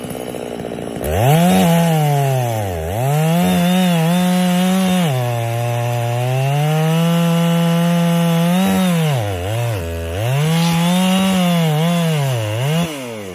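Chainsaw cutting through a tree trunk on a slippery hillside during a felling back cut: a loud, close engine whine that bogs and rises as the bar works through the wood, continuous for over ten seconds.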